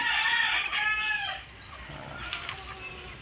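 Young chicks and hens on a farm, a burst of clucking and peeping with a crow-like call near the start, then quieter scattered chirps and rustling.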